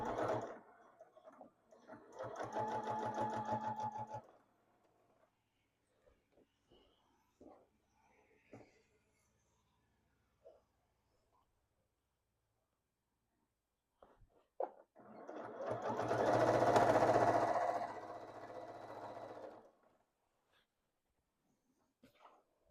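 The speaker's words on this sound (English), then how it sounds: "put our presser foot down, make sure our threads aren't in the way. And we're going to stitch" Sewing machine stitching binding onto a quilted table topper, two steady whirring runs a few seconds each separated by quiet handling, with a dog's faint whimpers and breathing nearby.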